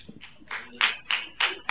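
A few people clap at a city commission meeting, sparse and slow claps that grow into a short run of sharp, evenly spaced strokes close by.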